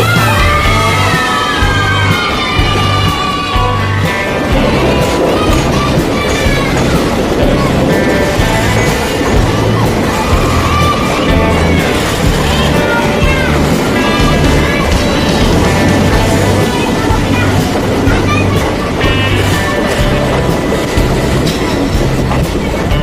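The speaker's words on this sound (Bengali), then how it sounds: "ট্রেনের প্রথম বগিটি সুড়ঙ্গের ওপারে সরে যাওয়ার সঙ্গে সঙ্গে শিশুদের উৎসাহী কণ্ঠে চিৎকার আরো জোরে বাড়তে থাকে" A passenger train rolls through a hill tunnel in the Araku Valley with a loud, steady rumble and clatter of wheels, while faint shouts and cheers rise over it throughout.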